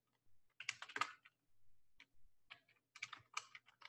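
Computer keyboard typing in short bursts of quick, crisp keystrokes with a pause in between, close and quiet, with no talking.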